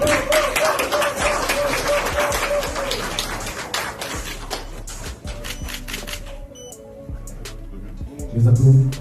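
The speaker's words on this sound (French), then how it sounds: "Les applaudissements timides." Sparse, timid applause rattles in the room for several seconds, uneven and moderately close, then thins to a few isolated claps while voices murmur underneath.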